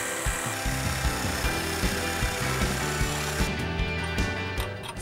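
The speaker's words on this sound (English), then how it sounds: "we're gonna slice the tailpipe here so it comes off in two pieces." A power tool cuts through the tailpipe of a Jeep TJ exhaust system, a steady close grinding buzz running unbroken for several seconds with rhythmic metallic pulsing and no talk.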